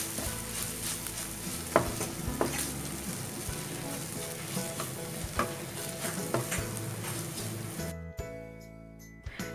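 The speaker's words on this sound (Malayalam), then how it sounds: "ഇനി ഇതെല്ലാം കൂടി ഒന്ന് മിക്സ് ചെയ്ത് കൊടുക്കാം" Chicken masala with tomato sauce stirred in a pan, giving a continuous sizzle under repeated scraping clinks of the utensil before the frying noise suddenly drops away near the end.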